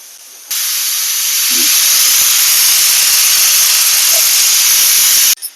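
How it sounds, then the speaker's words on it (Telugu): A pressure cooker's whistle blasts out steam during the cooking of an Andhra-style country chicken curry, a loud sustained hiss that starts abruptly, holds for about five seconds, then cuts off. "ఇది 2వ విజిల్, ఈ విజిల్ వచ్చిన తర్వాత ఆఫ్ చేద్దాం."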